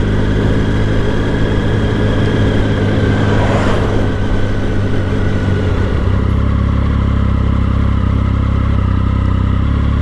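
Loud, continuous engine drone from a Triumph Speed Triple motorcycle while riding, a steady throbbing low rumble mixed with heavy wind buffeting for about ten seconds, with no talk.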